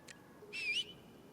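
A character in the Star Wars Outlaws video game whistles to lure an enemy, giving one short, clear rising-and-falling whistle over quiet ambience.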